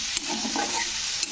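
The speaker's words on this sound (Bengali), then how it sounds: "সর্ষের বাটা দিয়েও কিন্তু একটু নাড়াচাড়া করে দিতে হবে।" Mustard paste and leafy vegetables stirred in a pan give a brief, soft hiss of cooking with two light utensil clicks, one near the start and one near the end.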